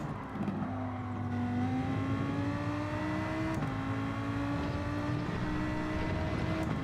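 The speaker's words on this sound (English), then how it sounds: "I'm just absolutely gunning it on this lap now" A race car engine held at full throttle in Gran Turismo 7, a loud, continuous high-revving drone with a brief gear change partway through, no talking.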